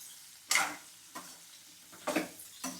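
Okra (bhindi) fries in hot oil with a low sizzle, broken by a few bursts of scraping and stirring, close and fairly quiet with no voices.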